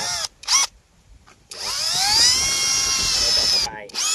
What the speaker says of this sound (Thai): เราก็ต้องเจาะก่อน ซึ่งอาจจะเจาะสูงสักประมาณ 1คืบหรือไม่เกิน1ฟุต นะฮะ เจาะเอียงประมาณ 45 องศา